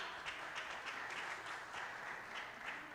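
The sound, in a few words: audience applause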